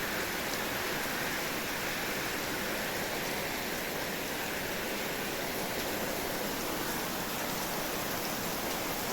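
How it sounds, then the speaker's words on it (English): Steady rain falls in a dense, even hiss that runs unbroken from start to finish, with no voices over it. "It's only rain."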